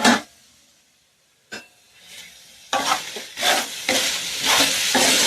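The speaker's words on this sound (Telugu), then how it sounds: "తోటకూర ఫ్రై చూద్దామండి ఎలా ఎగిందో" Amaranth leaves stir-frying in a pan, starting with a loud clatter and quiet gaps, then a near, continuous hissing sizzle with repeated scraping stirs that grows louder and denser toward the end, with no talking.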